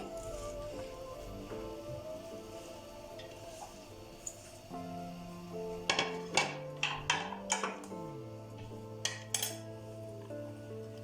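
Ingredients are added to a bowl of gram flour for pakoras, with a handful of crisp clinks and taps of utensils against the bowl clustered in the second half, over soft background music.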